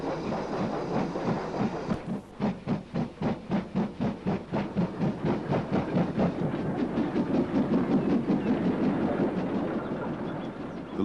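A Great Western 1600-class small pannier tank locomotive hauls a local passenger train, its strong rhythmic exhaust beats and steady clickety-clack of wheels on rail building and running continuously, close and loud, with no talk.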